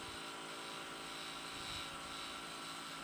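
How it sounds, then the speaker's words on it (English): A small detail sander smooths the edge of a handmade wooden coffee scoop, giving a steady, continuous close-up motor whine with an abrasive hiss that holds even for about three seconds, with no talking. "I'm just gonna take off a little bit of that edge with the detailer."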